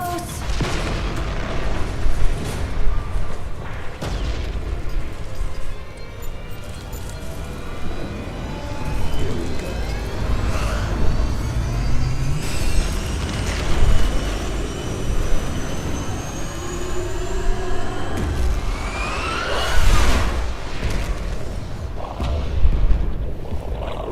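Explosions from the finale of the video game Halo CE: a continuous roar of deep booms, rumbling blasts and jet-like whooshes, with several louder detonations standing out, and no speech.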